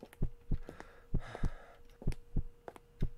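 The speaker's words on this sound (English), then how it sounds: "Definitely hear my heart beating now." Heartbeats thump steadily in the horror game Fibrillation, paired lub-dub beats repeating at a regular pace over a faint hum, with a brief breathy sigh in the middle, no talking.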